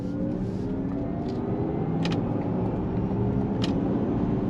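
A 2024 Honda Prologue Elite electric SUV accelerates with a steady, close low rumble of road and drivetrain noise, a faint rising motor tone, and a couple of brief light clicks.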